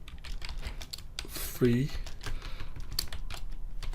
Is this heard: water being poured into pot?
no